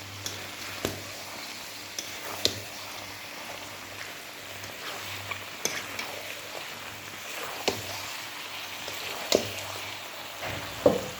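Meat for Eid fries quietly in a pan, a soft steady sizzle broken by scattered clicks and scrapes of stirring.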